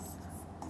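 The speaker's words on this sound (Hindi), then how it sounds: "यहाँ लिख दिया फिनाल फार्मूला" A marker or chalk scratches a chemistry formula onto a classroom board, a short close scraping stroke.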